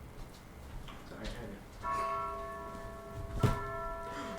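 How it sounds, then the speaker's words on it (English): A bell rings twice as a sound effect during a tabletop role-playing game session, each strike leaving a clear, sustained ringing tone over a low background murmur. "you all hear a bell"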